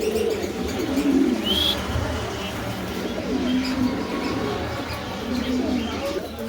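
Pigeons cooing at a pigeon seller's loft, soft repeated low coos recurring through the clip over a steady background murmur, with a brief higher chirp near the start.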